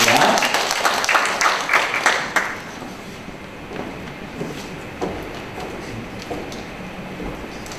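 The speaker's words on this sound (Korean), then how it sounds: "우리 격려의 박수 부탁드리겠습니다" Audience at a Korean government innovation event applauding in encouragement as a new staff member is called up; dense clapping for about two and a half seconds, then fading into scattered claps and murmuring room noise.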